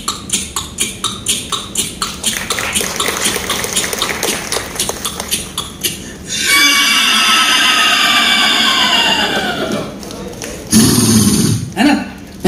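Coconut shell halves mimic a shod horse's hooves on a road with a brisk, regular series of sharp clacks. A long whistling mouth-made sound follows, then a short voice.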